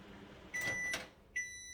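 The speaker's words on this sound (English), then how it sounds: "I mean, we're talking about the microwave here." A microwave oven heating egg bites gives a faint, low hum, broken by two short, high electronic beeps.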